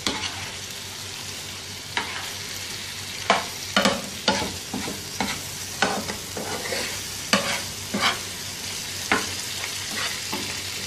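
Mutton being stirred in a pot for an Eid al-Azha recipe, a spoon scraping in a steady series of sharp knocks and scrapes over a soft continuous sizzle, close and moderately loud.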